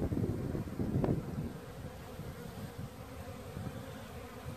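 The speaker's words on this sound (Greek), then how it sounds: "Οπότε τα μελίσσια είναι πολύ ήρεμα," Honeybee colonies buzz steadily at hives in the open beside a flowering almond tree, with a light breeze adding wind rumble against the microphone; the calm hum is continuous, close and moderately loud.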